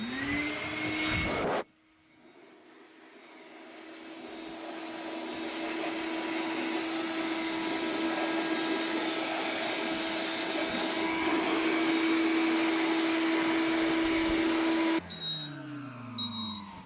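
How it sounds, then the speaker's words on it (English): A vacuum cleaner used to blow dirt out of electrical equipment in an off-grid setup, switching on with a steady whining motor drone that builds and holds near and loud before cutting off. "So let's try to blow it out. We're gonna use this vacuum to do that."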